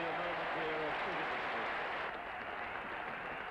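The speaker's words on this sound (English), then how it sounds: "the England players come out to applaud" A cricket crowd applauds a memorable moment in a match, the clapping a steady, distant wash that continues while a commentator talks over it.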